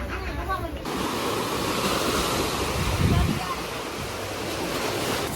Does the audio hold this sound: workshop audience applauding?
no